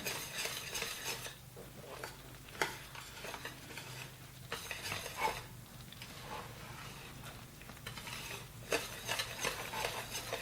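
Thick Coca-Cola cake batter being stirred in a bowl, a steady scraping and sloshing with repeated louder knocks of the utensil against the side, close and continuous with no talk.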